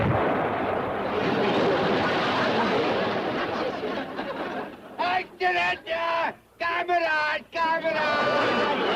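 A loud cannon blast booms and rumbles, followed by people talking and laughing close by.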